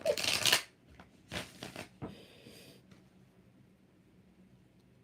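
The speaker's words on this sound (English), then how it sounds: "3 more shuffles." Tarot cards being shuffled in a few short, separate riffling bursts, close and moderately loud at first, then fading to quiet handling noises, with no talking.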